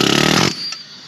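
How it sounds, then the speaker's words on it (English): A pneumatic linear impact hammer rattles in a rapid, loud burst against a rusted-on part of a 2007 Chevrolet Monte Carlo SS 5.3, then cuts off abruptly, leaving a faint ringing tail. "Pneumatic linear impact."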